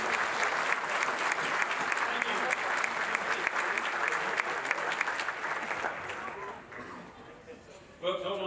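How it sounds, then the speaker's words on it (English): A banquet crowd at an annual meeting gives a loud, sustained round of applause for retiring directors, which thins and fades near the end before a voice cuts in. "one more round of applause for the retiring directors"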